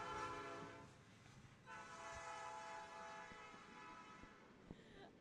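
A passing train sounds its horn in a long sustained blare that starts, breaks briefly, then carries on steadily for several seconds, with rail rumble underneath and no talking.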